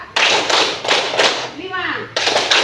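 A classroom of students claps in a counted rhythmic pattern during a lesson, producing distinct bursts of group claps separated by short pauses, with a voice briefly audible in a gap between them.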